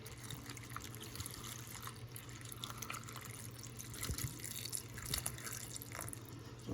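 Water runs and splashes steadily from a tap, with occasional clinks and drips as a zucchini is rinsed beneath the stream.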